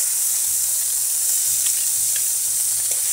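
Cumin and coriander paste sizzles steadily in a hot pan for a Bengali village-style egg, cauliflower and potato curry, a constant close frying hiss with faint crackles and no talking.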